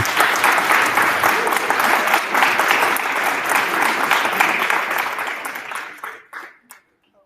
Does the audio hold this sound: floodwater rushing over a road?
no